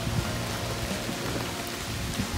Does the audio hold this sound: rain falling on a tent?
yes